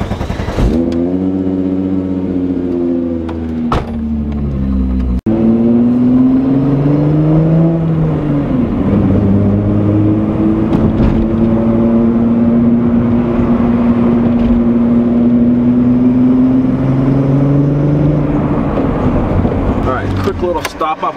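A VW Jetta with a VR6 engine drives with a clear engine hum that rises and falls through gear changes, loud and close from inside the car, with a sharp click partway through.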